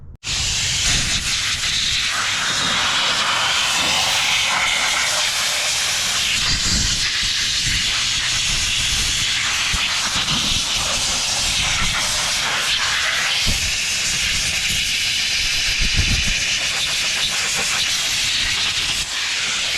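Compressed air blasts steadily and loudly against a 1983 Mercury Capri RS, abandoned for 20 years, clearing debris, mouse mess and grease in a continuous hiss with slight surges throughout.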